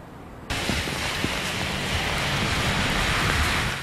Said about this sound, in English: The downpour that's lasted off and on for most of the day and night